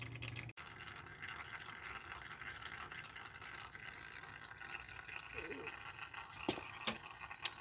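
Brake fluid on a 2001 Jaguar XK8 trickles steadily out through a clear bleeder hose during a brake fluid change, a faint, quiet liquid flow with a few small clicks near the end.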